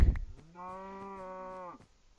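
A single long, drawn-out cow moo in Minecraft with a steady tone, clear and close, following a short burst of sound at the start.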